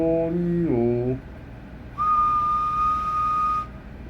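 A person whistles into a microphone during an audio test of an RM Italy KL703 mobile linear amplifier: a short sliding whistle, a pause, then a single steady high tone held for nearly two seconds, clear and close.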